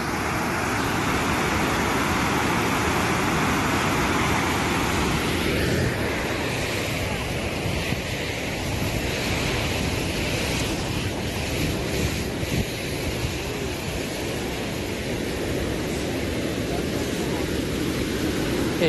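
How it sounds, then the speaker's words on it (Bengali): Strong river current rushes past a boat with a steady, loud broadband roar, mixed with wind buffeting the microphone, no talking. "জলের বেশ ভালো স্রোত আছে"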